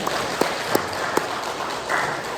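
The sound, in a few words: congregation applauding in encouragement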